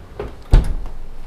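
Oven door swinging shut as two baking trays of bacon-wrapped baby potatoes go in, a single close dull thump with a brief rattle, then quiet kitchen room tone.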